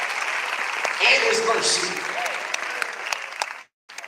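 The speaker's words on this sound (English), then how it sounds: "You ought to clap your hands for that and thank God for his grace" Church congregation clapping hands, a dense steady patter of many hands under a preacher's voice, ending abruptly near the close.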